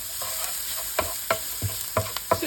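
Chopped onion is stirred in a frying pan with a steady sizzle, and a spoon scrapes the pan in quick, regular strokes about every third of a second, heard up close.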